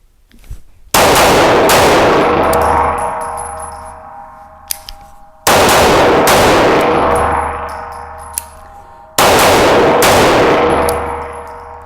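Three loud, sharp Smith & Wesson Equalizer TS pistol shots at a shooting range, each a sudden crack with a ringing metallic echo that decays slowly, spaced several seconds apart.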